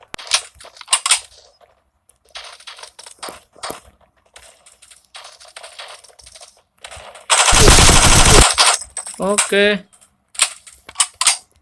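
Gunfire in the mobile shooter Forward Assault on Android: scattered sharp shots, then a dense sustained burst of automatic fire midway, close and loud, with a voice talking briefly in between.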